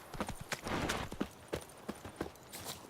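Roach the horse gallops in The Witcher 3, hooves striking in a steady, quick clip-clop rhythm of about a dozen close, fairly loud beats with no voices.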